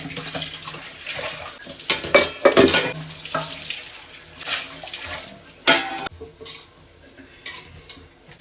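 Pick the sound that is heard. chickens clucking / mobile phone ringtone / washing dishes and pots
washing dishes and pots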